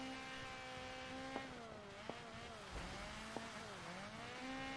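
A race car in DiRT 5 drones with a steady engine note that shifts as it drives, while a few sharp, isolated exhaust backfire pops crack out, loud and close.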